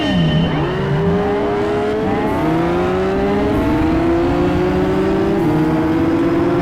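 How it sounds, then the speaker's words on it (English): A Honda S2000 race car in Gran Turismo 5 accelerates hard, its engine revving up through the gears in a loud, continuous high-pitched wail with other cars' engines blending in behind. "That S2000 gets out of the hole quick."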